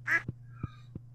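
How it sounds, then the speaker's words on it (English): Ducks in the Stardew Valley farming game give one nasal quack followed by a few soft, evenly spaced clicks over a steady low hum, close and fairly quiet. "Let's talk to all the chickens and the ducks"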